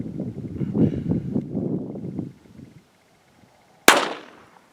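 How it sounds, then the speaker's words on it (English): A single sharp crack from a Kel-Tec P32 pistol firing Federal 71 grain full metal jacket ammunition, loud and close, with a brief decaying tail. It follows several seconds of low rumbling handling noise and a short quiet pause. "Getting ready to shoot the Kel-Tec P32."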